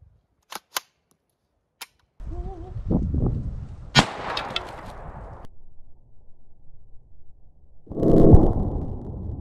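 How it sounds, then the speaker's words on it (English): A homemade launcher called the ARK, built from a warped printed part, fires in a test shot: sharp isolated clicks, then a mechanical whir and a loud snapping launch, followed by a burst of noise near the end. "So that first shot, I almost took out Invader Zim there."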